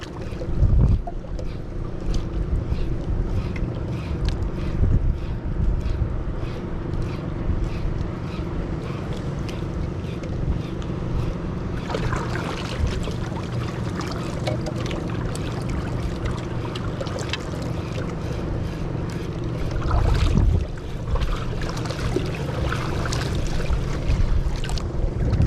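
Rough sea around a small fishing boat, with continuous churning water and wind noise buffeting the microphone, a steady loud wash with occasional heavier surges and no speech.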